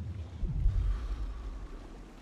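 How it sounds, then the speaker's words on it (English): Rushing waterfall in the video game Inside, a steady low roar of falling water with rumbling churn, heard alone and moderately loud throughout. "Water fall, alright"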